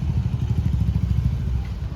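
A motorcycle engine rumbles close by near a campus bike parking area, a steady low throbbing putter with slight clatter that holds throughout without any talking.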